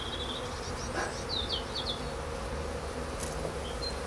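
Honeybees buzz steadily and close around an opened hive during an early spring inspection, a dense continuous drone with a few individual bees whining past.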